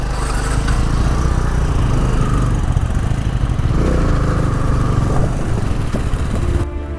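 A motorcycle rides along a smooth highway out of Patna in Bihar, its engine droning steadily with a low hum and wind rush throughout, loud and continuous, with no talk.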